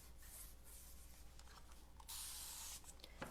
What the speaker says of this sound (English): I'm going to spray my brush a little bit